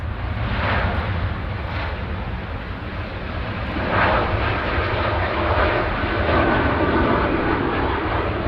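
A jet aircraft passes at Manchester Airport with a loud, steady engine roar that swells and holds throughout, heard from close range with no talking.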